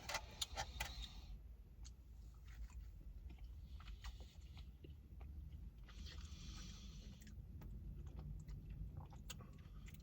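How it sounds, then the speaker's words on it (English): Someone eats baked beans from a barbecue restaurant, with faint, close, intermittent chewing and small mouth clicks over a quiet low rumble. "I'm gonna try the beans. Baked beans."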